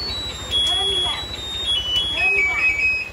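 A towing alarm fitted to a Yamaha YTX motorcycle gives a repeated high-pitched electronic beep that keeps sounding under talk and background noise for about three seconds.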